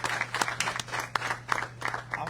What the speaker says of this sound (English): Let's give George another round of applause